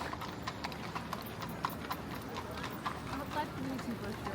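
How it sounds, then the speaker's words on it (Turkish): Horses' hooves clip-clop on a street in Vienna in a steady, fairly quiet rhythm, with city bustle and people talking around them. "Atlar kimin için koşuyor?"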